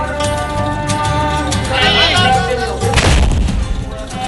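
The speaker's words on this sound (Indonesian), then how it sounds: "Dentuman dari meriam karbit yang terbuat dari kayu jenis mabang dan meranti ini menandakan berakhirnya bulan Ramadan." A large wooden carbide cannon made of mabang and meranti timber fires at an end-of-Ramadan festival: one loud, deep boom near the end, after a stretch of busy outdoor background noise.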